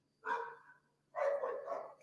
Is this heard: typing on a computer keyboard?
no